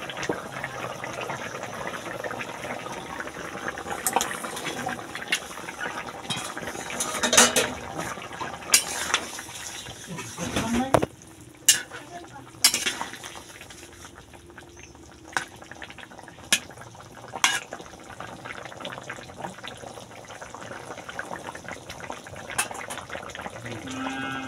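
Curry of parshe fish with taro bubbling in a pot, a steady simmering hiss with occasional clinks of a utensil against the pot, close and fairly quiet throughout.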